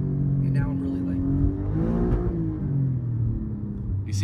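An Alfa Romeo Giulia QV engine revs up while driving, its rising rumbling pitch climbing smoothly under people talking in the cabin.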